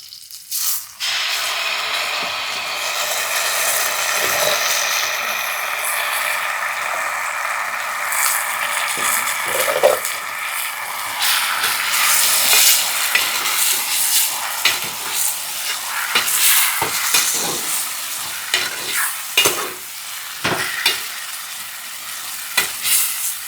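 Sour greens (gongura) being stirred and fried in a pan, a continuous loud sizzle with scraping strokes of a spoon against the metal, the sizzling steady throughout with frequent clatters near the end.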